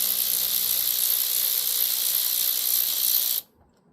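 A ratchet with a 5/16 socket loosens the carburetor studs on a Briggs 12 HP flathead engine, giving a rapid, continuous close-up clicking that runs for over three seconds and then stops abruptly.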